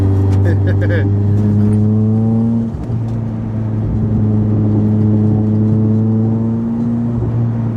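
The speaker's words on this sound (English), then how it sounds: "It's got the pops and the rasps and that." Vauxhall Corsa VXR tuned to 406bhp, engine droning steadily in a loud, close drone with rising revs and crackling exhaust pops and rasps, heard from inside the car under occasional talk.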